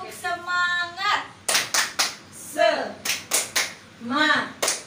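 A group claps a rhythmic cheer pattern in short bursts, with voices chanting between the claps, close and lively, indoors at a community session.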